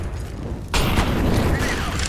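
A flashbang grenade detonates in CS:GO on de_cache, a sudden loud burst that cuts in partway and leaves a dense ringing wash through to the end, with game noise underneath.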